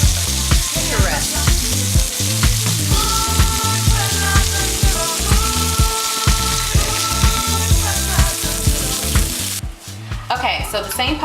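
Chicken sizzling and frying in olive oil in a pot, a loud, dense crackle with steady popping and spatter that continues throughout, with occasional stirring and clinking near the end.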